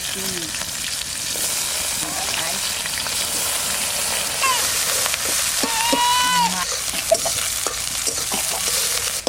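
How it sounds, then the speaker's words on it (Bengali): Onions and green chillies with black cumin sizzle in leftover fish-frying oil during a Bengali village-style rui posto preparation, a steady, close frying crackle that runs throughout, with faint tonal calls briefly in the background. "পেঁয়াজটা একটু ভাজা ভাজা হয়ে গেছে।"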